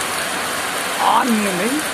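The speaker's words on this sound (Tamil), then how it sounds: "வடகிழக்கு பருவக்காற்று மழை பொழியுது, சொன்னபடி மழை பொழியுது." Heavy monsoon rain pours down in a steady, dense hiss, loud and close, with a brief voice rising over it partway through.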